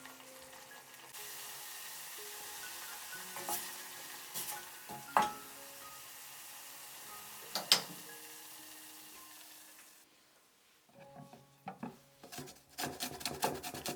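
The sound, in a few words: stirring tonkatsu sauce simmering in a pot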